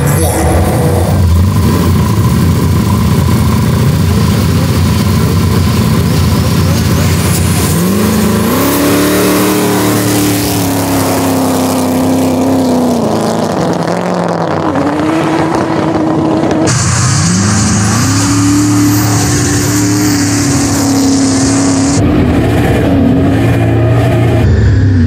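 A 950hp Datsun 1200 Ute and a 2JZ-swapped Honda Odyssey meet in a no-prep drag race. Loud, close engines drone and rev, with rising pitch sweeps as the cars accelerate hard, one after the other.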